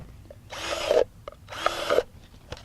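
A power drill bores holes in a plastic bucket in two short bursts of about half a second each, a close, moderately loud grinding whir separated by a brief pause, with no voices.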